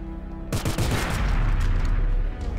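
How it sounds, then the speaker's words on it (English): A big explosion erupts in the twin-stick roguelite shooter Doomsday Hunters, a sudden loud blast followed by a dense roar of rapid gunfire-like bursts and rumbling debris that carries on for about two seconds. "Okay, that's a big explosion."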